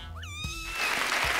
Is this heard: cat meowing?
yes